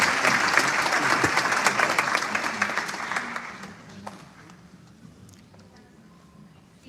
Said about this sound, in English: Please give Arussalam and UMB a hand of applause